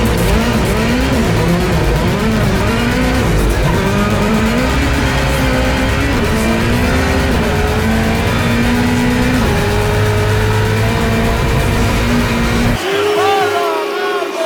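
A Toyota Gazoo Racing WRC1 rally car driven by a driver at the Monte-Carlo rally roars loud and close from inside the cabin, its engine revving and shifting through gears with tyre squeal, while people talk over it; the engine cuts sharply near the end.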